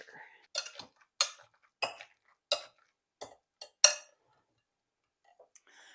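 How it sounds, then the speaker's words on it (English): A masher works roasted pumpkin flesh in a bowl, giving about eight short, faint clinking and squishing strokes at an uneven rhythm, then near silence. "this is when I get out the masher"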